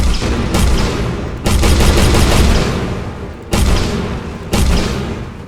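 Loud gunfire in a four-player deathmatch video game, a few heavy booming shots and rapid bursts repeating over several seconds with no talk.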